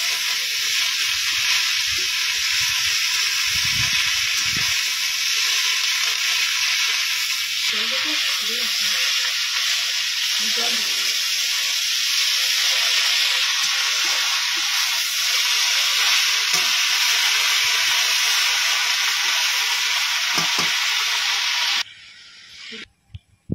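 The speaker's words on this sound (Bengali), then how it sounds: "এবারে নেড়ে চেড়ে একটু আলু আর চিংড়ি আর শাকে খুব সুন্দর করে মিশিয়ে নেব।" Potatoes, shrimp and nate bene greens stirring together in a hot pan, a loud continuous sizzle and hiss with scraping spatula strokes throughout, dying away at the end.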